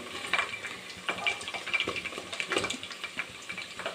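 Egg surukku, an egg-and-flour snack, frying in hot oil: a steady close crackling hiss broken by sharper pops and bubbling bursts, with no voices.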